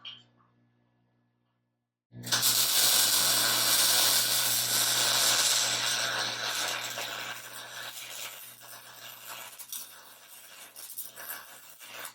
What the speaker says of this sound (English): hearing sizzling. You guys see something burning?